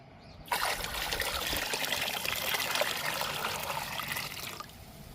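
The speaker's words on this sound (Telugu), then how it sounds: "ఈ 8 లీటర్ల వాటర్లో పెసలు కడిగిన వాటర్ని డైల్యూట్ చేద్దాము" Water from soaked mung beans is poured into about eight litres of plain water. The stream trickles and splashes steadily for roughly four seconds after a brief pause, then stops, with no voices.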